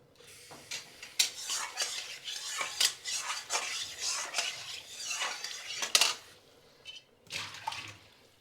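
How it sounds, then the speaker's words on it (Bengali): A metal wok (kadai) rinsed with a little water, with scraping, clinking and sloshing strokes in irregular bursts, close and fairly quiet, with no talk. "এখন কড়াইটা একটু হালকা জল দিয়ে ধুয়ে নেব।"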